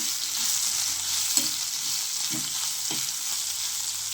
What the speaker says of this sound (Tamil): தேங்காய் சேர்த்து ஒரு 2 நிமிஷம் வதக்கினா போதும்.